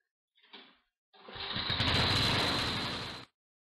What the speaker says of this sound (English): We've got about 3/4 throttle, full choke, and it should start